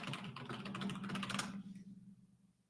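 Rapid clicking of typing on a computer keyboard, close and fairly quiet, in dense bursts that trail off after a second and a half into near silence.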